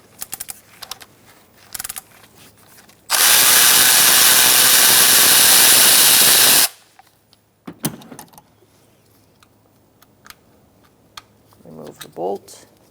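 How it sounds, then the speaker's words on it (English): A socket wrench with an 8mm socket removes a bolt near the valve cover of a 2012-2018 Ford Focus 2.0L four-cylinder, giving one loud, steady burst of mechanical noise lasting a few seconds between quieter clicks and handling sounds. "Remove this bolt using an 8mm socket."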